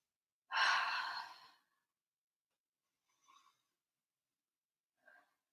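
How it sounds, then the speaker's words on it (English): A single long, audible exhale during a yoga stretch, close and clear, followed by near silence with two faint, brief breathy sounds later on. "Take 3 nice big deep breaths."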